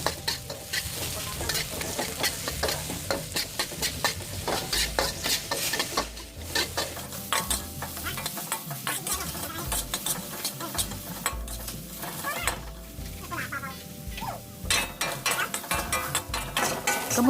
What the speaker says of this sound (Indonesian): ini kita tumis sampai bawang bombaynya harum dan layu ya